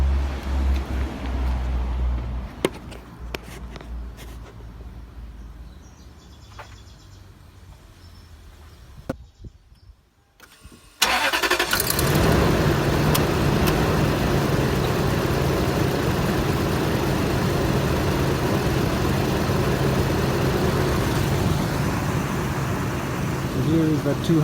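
A Toyota Land Cruiser 200 series with a 4.7 liter V8 fires up after a brief quiet gap, then settles into a steady, loud, close idle that holds to the end, with some handling noise before the start.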